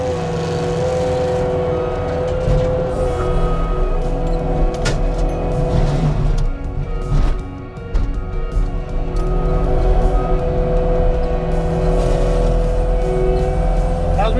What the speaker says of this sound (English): We do suggest that when operating Caterpillar mulchers, that you keep the torque tube of the machine or the tool cutting on a stump about 2 feet off the ground.